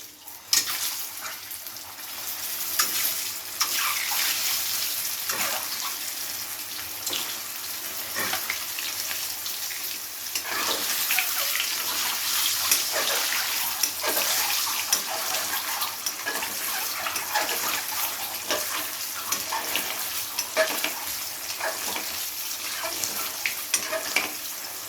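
Eggs fry one by one in hot oil seasoned with salt and turmeric. A steady, close sizzle with occasional pops continues throughout.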